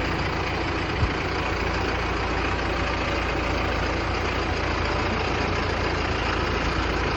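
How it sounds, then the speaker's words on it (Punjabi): A tractor engine rumbles steadily at low revs as it moves slowly into a low-lying field being prepared for sugarcane, a continuous mid-distance drone with no voices. "ਹੌਲੀ ਹੌਲੀ ਟਰੈਕਟਰ ਆ ਰਿਹਾ ਵਿੱਚ"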